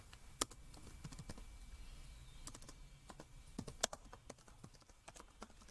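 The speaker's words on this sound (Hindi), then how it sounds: "मैं सर्च बार में सोप डिस्पेंसर लिखती" Keys clacking on a computer keyboard as a product name is entered into a search bar, a quick, uneven run of close, light taps with a few sharper strokes and no talking.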